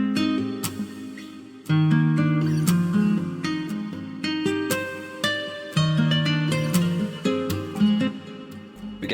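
Fingerstyle acoustic guitar patch from the Omnisphere synth plays a looping R&B beat pattern, with plucked notes and chords over a low bass line and percussive hits, steady and full throughout with no talking.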